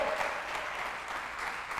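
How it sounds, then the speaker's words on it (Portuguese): A church audience gives a short round of applause during a sermon, a soft, continuous patter of many hands lasting under two seconds. "Dá um aplauso aí, pelo amor de Deus."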